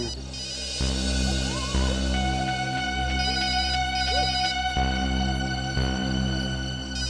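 A ringtone chimes repeatedly in a steady pattern, sounding somewhat muffled and distant against a low background hum.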